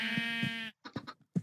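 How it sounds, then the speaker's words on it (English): A sheep bleats in a video game: one long, close, nasal bleat, then several short, choppy bleat fragments separated by brief silences. "Why is a sheep wiping its face on me?"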